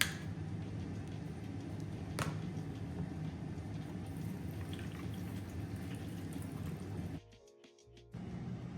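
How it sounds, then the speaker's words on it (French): Half a litre of water pours in a steady, hissing stream during home cooking. It runs continuously for about seven seconds, then briefly cuts out before faint sound resumes. "Et je vais mettre un demi-litre d'eau."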